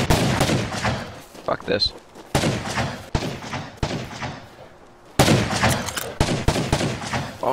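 Loud, close gunfire in the video game Rust: irregular bursts of shots with short gaps, and a man swears briefly between volleys.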